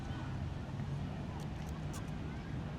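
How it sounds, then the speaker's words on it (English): Steady wind buffeting the microphone, a continuous low roar with no breaks throughout. "That's windy."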